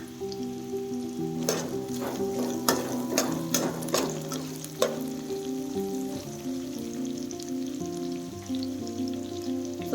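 Onions and curry leaves fry in a pan with a steady crackling sizzle, sharp spattering pops clustering early, over a constant background hum.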